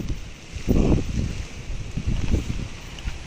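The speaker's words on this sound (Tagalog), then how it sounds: "Ay grabe, lakas ng hangin." Gusty wind roars across the microphone in rumbling low bursts, swelling and easing over a few seconds.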